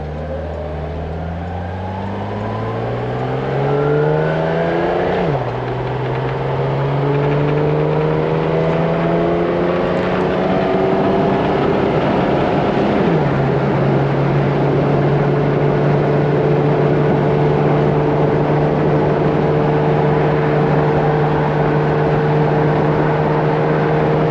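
A classic Mercedes 280SL or 350SL accelerates onto a highway, its engine note rising through each gear before dropping at two distinct shifts, then settling into a loud, steady cruising drone with road noise.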